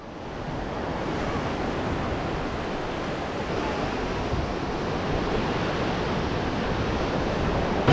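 Surf rolls in steadily on the flat Rishikonda beach at Visakhapatnam, hills at one end. It makes a continuous broad wash of breaking waves, mixed with wind rumble on the microphone, with no voices.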